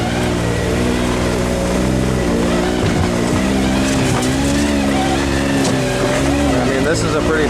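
A Can-Am X3 XRS side-by-side crawls slowly over rocks on a technical trail, its engine holding a steady low, wavering drone with small shifts in pitch throughout, loud and close.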